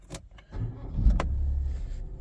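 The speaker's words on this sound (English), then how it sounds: "car started readily" A car engine with a freshly recharged, previously flat battery is cranked with clicks, catches and settles into a steady low idle close by, with no talking.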